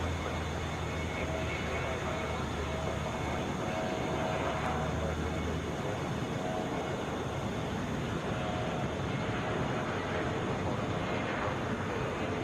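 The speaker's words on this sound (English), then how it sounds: "It's a Boeing 717." Boeing 717 airliner at Atlanta International Airport: a loud, steady broadband jet engine roar fills the whole stretch without letting up, with a faint voice talking underneath.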